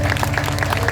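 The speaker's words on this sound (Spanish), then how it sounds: "Denle un aplauso al Señor." A church congregation applauds, steady dense clapping filling a brief moment after a sermon.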